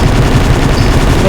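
Rapid gunfire from a video game, including a headshot, rattles on continuously and loudly throughout the short stretch, with a faint voice underneath.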